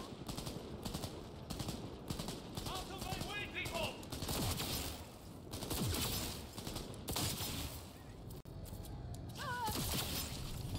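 Rapid bursts of automatic gunfire fill a firefight in the video game Cyberpunk 2077 Phantom Liberty, repeating in loud clusters while voices talk over the shooting.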